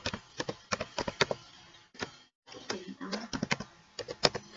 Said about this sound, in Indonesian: Setelah itu kita ketik